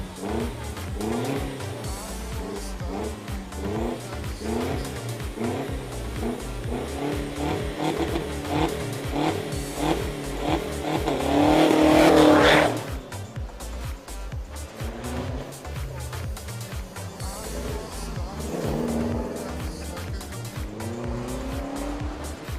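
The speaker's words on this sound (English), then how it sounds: "Well, Lal, another machine from the Boolean Exchange racing team." Race car at the Eliyakanda hill climb in 2021, engine revving up through the gears with tires squealing, loudest near the middle as it passes close, then fading, with little else over it.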